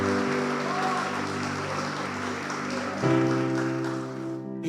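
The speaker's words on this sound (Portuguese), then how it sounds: "Se coloque de pé, aplaudindo a Deus" Church congregation on its feet applauding during a worship service, a broad sustained wash of clapping mixed with sustained music and voices, steady and loud throughout.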